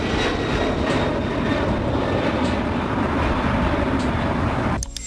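Cargo jet aircraft such as a Boeing 747-8F or Antonov AN-124, heard as a steady, loud broadband roar of engines that holds constant before cutting off abruptly near the end.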